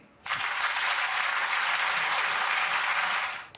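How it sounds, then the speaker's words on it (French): Steady, dense applause fills a European Parliament chamber after a speech, starting abruptly and holding at an even, loud level for a few seconds before cutting off. "Alors son discours a été super applaudi"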